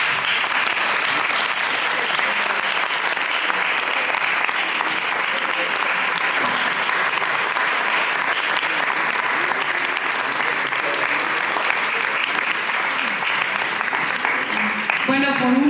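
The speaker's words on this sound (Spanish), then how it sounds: "pues un aplauso a todos" Sustained applause from a live audience at a Spanish-language magazine launch presentation, dense steady clapping filling the room at even loudness for the full length, with a brief louder burst right at the end.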